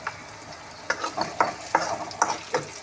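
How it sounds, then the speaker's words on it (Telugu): Something fries in a pan until it browns while a spoon stirs and scrapes against the metal in a steady rhythm, a soft sizzle running underneath, close and alone. "కొంచెం బ్రౌన్ కలర్ వచ్చేంత వరకు వేయించడం"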